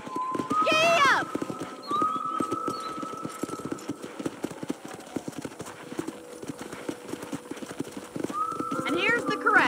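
A horse in Red Dead Redemption gallops with steady, rapid hoof clip-clops on the ground, punctuated by whinnies at the start and end, while people talk over the hoofbeats.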